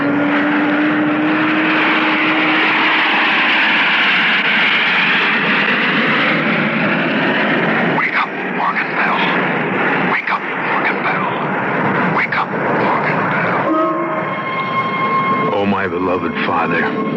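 A propeller airplane engine drones loudly and continuously in flight as a radio drama sound effect, with a steady rumbling hum that shifts in pitch, and voices speaking over it in the later part.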